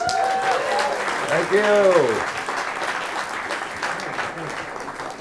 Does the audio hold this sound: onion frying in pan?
no